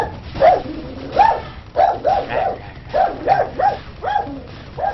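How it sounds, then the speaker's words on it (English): A dog barks repeatedly in a steady series of sharp, rhythmic yaps, loud and close, heard through a narrow, slightly muffled channel with no one speaking. "Is that your dog or Maya's?"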